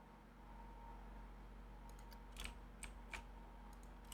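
Computer mouse clicks during a PC game session, a few sharp quiet ticks spaced irregularly over a steady low fan hum, with no talk.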